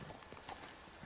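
Horse hooves clip-clop in Red Dead Redemption 2, a steady, fairly quiet run of soft hoofbeats over a low game-audio background.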